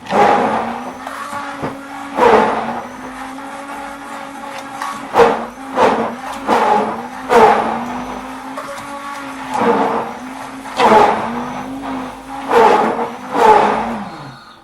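Blender mixing a potato and garlic sauce for Papa a la Huancaina, the motor whirring in repeated pulses, each a loud surge of grinding that drops back to a steady hum before the next burst.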